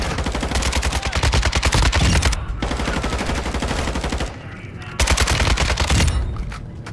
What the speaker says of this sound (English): You shoot right, I'll shoot left.